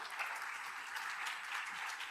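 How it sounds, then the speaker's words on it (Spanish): An audience at a medical symposium on hypertension applauds steadily, a dense crackle of many hands clapping at moderate distance with no pauses. "Un aplauso para el doctor Coca"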